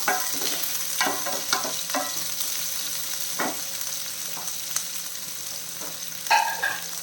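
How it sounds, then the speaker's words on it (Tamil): Green chili, crushed ginger and garlic sauté in a pan for a bottle gourd dish, a soft steady sizzle broken by occasional scraping stirs and clinks of the spoon. "சேர்த்துட்டு நல்லா வதக்கிடலாம்"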